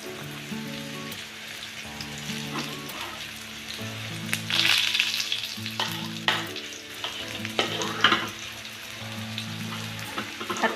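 Potatoes sautéing in a pan with pepper and minced garlic, a steady close sizzle broken by scraping and stirring clatter as the pieces are turned.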